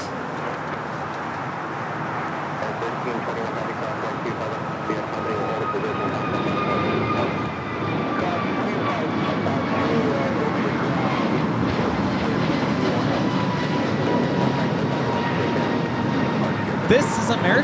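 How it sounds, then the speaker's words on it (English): An American Airlines Airbus A321neo takes off from LAX, its steady jet engine roar rising gradually and holding loud throughout, with a faint whine above it and a voice speaking over the noise. "This is American Airlines 636 taking off to Charlotte on the A321neo"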